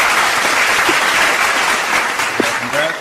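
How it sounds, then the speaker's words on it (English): Applause for a congratulations during a live business Q&A, a continuous, fairly loud patter of hand clapping that holds steady from start to finish. "Let's get a hand clap for that."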